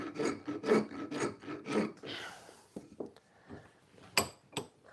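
A wooden hand plane tote is sanded or rasped by hand, with several rhythmic scraping strokes in a close, quiet workshop, then a few sharper knocks and scrapes.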